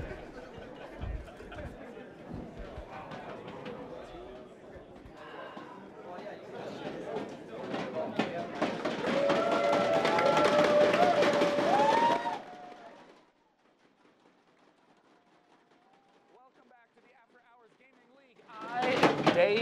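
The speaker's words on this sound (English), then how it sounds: "The crowd is amped. Oh, the crowd is awesome tonight." A crowd at a StarCraft 2 esports grand final cheers and chatters loudly, building to a roar, then drops away before swelling again, with voices over it.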